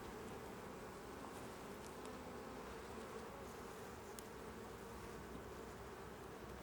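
Honeybees swarm around beehives at an apiary in Le Haillan, making a dense, steady buzz that holds evenly throughout with no voices.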